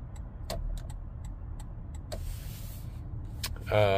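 A Toyota Land Cruiser's turn signal ticks steadily inside the cabin, with sharp, evenly spaced clicks against a quiet background and a brief mechanical whir near the end.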